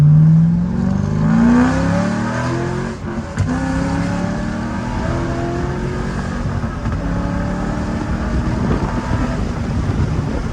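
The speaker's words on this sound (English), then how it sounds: "Now in between shifts, you can hear the pops." A C5 Corvette fitted with longtube headers revs hard with open-roof wind noise, its engine note climbing then dropping between shifts, loud and close, followed by a steadier rumbling drone.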